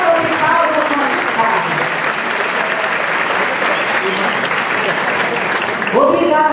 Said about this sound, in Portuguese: Salve uma salva de palmas aos nossos